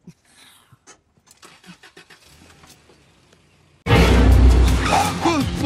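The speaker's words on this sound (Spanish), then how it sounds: "Enciende el auto" A car engine cranks and catches with a sudden loud roar after several seconds of quiet, scattered clicks and movement, then keeps running strongly to the end.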